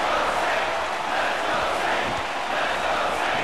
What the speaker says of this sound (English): And the crowd continues to rally behind the Saint.